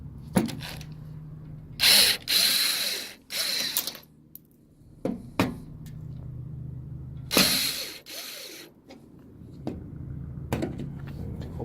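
A power drill unscrews screws on a Toyota Tacoma in several short, loud whirring bursts separated by quiet pauses, with faint clicks and handling noises between them.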